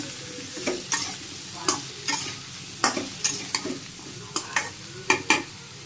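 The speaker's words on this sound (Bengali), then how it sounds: "শুকনো মরিচের গুঁড়ে হলুদের গুঁড়ে ভালো করে কষিয়ে নিই লাউ" Bottle gourd sautés in a pan with salt, dried chili powder and turmeric powder, soft background sizzle punctuated by about a dozen sharp, irregular scraping strokes of a spatula stirring close up.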